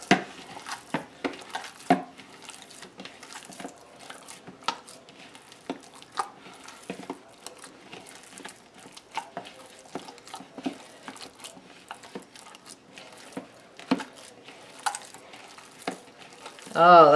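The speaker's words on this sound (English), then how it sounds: "get your hands in there and mix her up" Keto calzone dough gets mixed by hand in a bowl, giving faint, irregular squishing, patting and light knocks that keep up steadily, with a brief voice at the very end.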